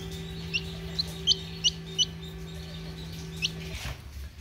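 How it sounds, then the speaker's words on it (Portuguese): A hen calls in a few short, soft clucks spread over several seconds, close by, with a steady low hum underneath and no talking. "a galinha tá aqui, ó."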